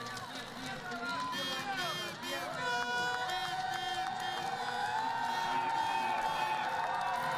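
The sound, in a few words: Russian crowd cheering at cross-country skiing race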